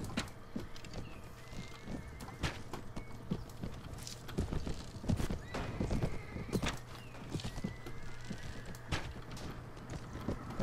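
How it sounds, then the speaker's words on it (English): Horses gallop and neigh in a battle scene from the video game AD1257, with dense, irregular hoofbeats and repeated whinnies over a continuous clash of combat noise, moderately loud throughout. "That's the sound of horses dying."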